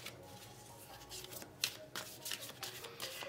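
Tarot cards being shuffled, handled and drawn up close for a love reading, with crisp riffling flutters and sharp flicks repeating in quick bursts.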